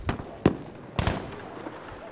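Rocket launcher explosions in the video game Battlefield V sound as a few sharp, moderately distant blasts, two main bursts about half a second apart, with low rumble between them.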